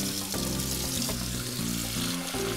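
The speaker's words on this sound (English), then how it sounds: "Okay, very hot tap water." Very hot tap water runs from a kitchen faucet during brownie pudding preparation, a steady soft hiss and splash at low level, continuous for the short span without speech.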